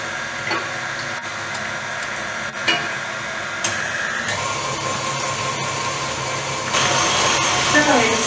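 An electric mixer beats cupcake batter on a low speed as eggs are added one at a time. It makes a continuous whirring motor hum with occasional knocks, and it grows louder toward the end.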